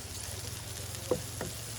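Garlic sizzling in hot oil in a pan after onions, a steady low frying crackle with a couple of brief louder pops, no talk.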